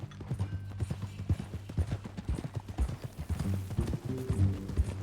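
Horse hooves clip-clopping at a steady walking pace in Red Dead Redemption 2, close and distinct, with light tack and harness jingles and no talking.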